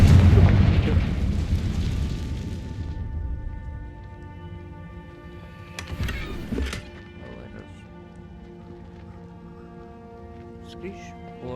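Confringo explosion spell in Hogwarts Legacy, a loud booming blast at the start that decays into a lingering tonal game ambience, with a smaller impact midway.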